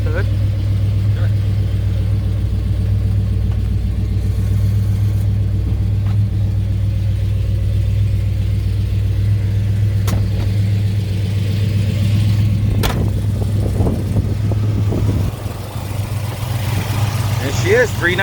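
A 1970 Chevrolet Chevelle SS with a 396 V8 rated at 350 horsepower idles with a steady, deep, low rumble. A few sharp clicks and a brief shift in the engine note come near the end, and no voice is heard over it.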